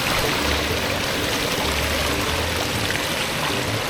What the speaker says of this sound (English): So here's a little waterfall.